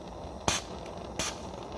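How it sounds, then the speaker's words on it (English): Two short hissing bursts of flux spray onto sterling silver earring pieces being readied for soldering, faint and close over a steady background hiss. "spraying my flux on there"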